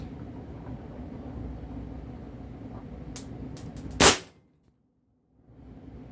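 A Pistelle X68 home-defence gun with a 24-long tuning chamber fires a single sharp, loud shot preceded by a few faint clicks, after which the steady background hum cuts out into brief silence.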